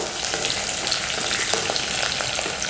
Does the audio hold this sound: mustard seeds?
yes